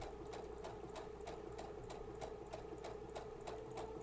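A sewing machine stitches with an edge joining stitch-in-a-ditch foot, a steady fast mechanical whir with an even rhythmic ticking of the needle, quiet and close.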